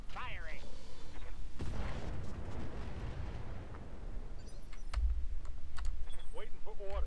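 Weapons fire from battle mechs in the Roguetech video game: bursts of heavy shots and rapid clattering impacts, with synthetic radio-style voice lines over parts of it.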